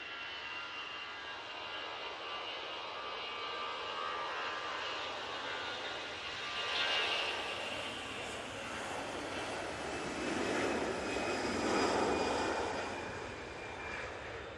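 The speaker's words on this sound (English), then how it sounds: "EasyJet will be going out next" An EasyJet airliner departing Manchester Airport, its engines a steady broadband roar that swells gently as it passes at a moderate distance, with no voices.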